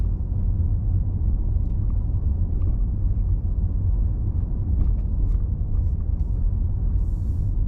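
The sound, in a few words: car driving through city neighborhoods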